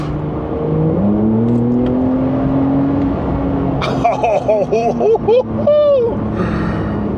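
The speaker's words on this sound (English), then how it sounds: "Sports Plus. All right, let's give it a blip." A Porsche 992 GTS in Sport Plus mode idles under talk inside the car, then gives a short series of sharp revving blips that rise and fall quickly, followed by a brief excited voice.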